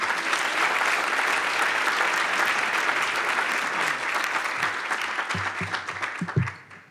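Sustained audience applause at a university research program closing luncheon, many hands clapping in a thick, even roar that gradually thins out and tapers off at the end.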